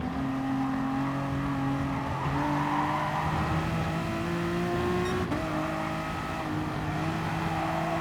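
A Honda NSX race car in GT Sport at Spa holds a steady, loud engine drone with gradual pitch changes and a faint tire squeal in the background.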